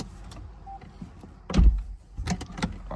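A car door on a 2006 Lexus IS350 swings shut with a loud, solid thunk midway through, followed by lighter clicks and rattles from the cabin.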